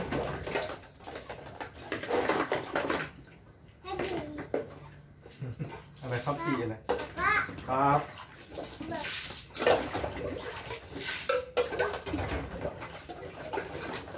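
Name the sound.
washing baby milk bottles with water and soap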